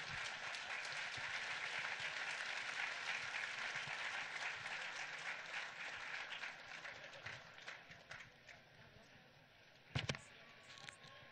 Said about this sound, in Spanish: Fuerte el aplauso, que se escuche que estamos de fiesta